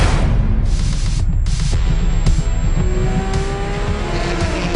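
Race cars roar off the start of the 47th Total ADAC 24 Hours of the Nürburgring, a loud, dense wall of engine noise with rising revs as the pack accelerates away, nearby and continuous.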